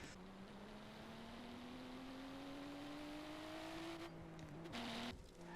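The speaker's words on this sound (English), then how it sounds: "Now I'm gonna quickly see what speed that I can get this car up to" A modded car in Forza Horizon 3 accelerating hard, its engine note climbing steadily in pitch for several seconds before a brief shift dip and a cut-off near the end.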